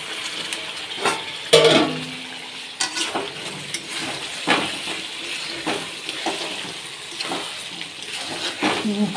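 Broiler chicken pieces fry in a pan while a spoon stirs them, giving a steady sizzle broken by repeated scraping strokes and clinks, close and fairly loud with no talk.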